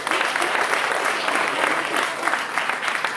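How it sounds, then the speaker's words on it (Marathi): An audience claps loudly for itself in a hall, a dense, sustained burst of applause filling the room evenly for several seconds with no voice over it. "टाळ्या अशाच हॉलमध्ये वाजवते आणि टाळ्या स्वतःसाठी एकदा जोरदार झाला"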